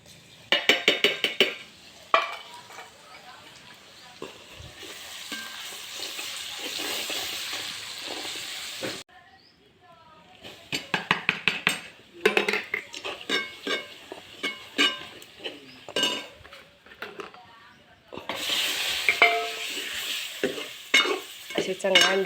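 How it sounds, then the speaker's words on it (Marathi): Egg curry being tempered and fried in hot oil in a pan on a wood-fired stove, with loud bursts of sizzling and hissing broken up by scraping stirs and short quieter gaps, close by. "तेल तापलंय. आता फोडणी टाकून घेऊ भाजीला."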